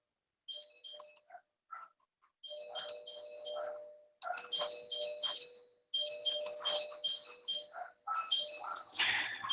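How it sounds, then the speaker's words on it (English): A doorbell chimes repeatedly, bright ringing tones in quick bursts, fairly loud and close with brief gaps between rings. "I got the doorbell ringing."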